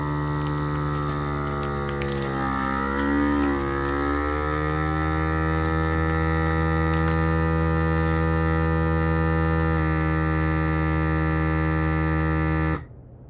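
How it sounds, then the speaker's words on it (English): A vacuum sealer hums loudly and steadily while drawing air from a bag of butcher-shop meat, its pitch wavering early on before settling, then cutting off abruptly near the end. "Close it up, click, click, and then vac seal right here."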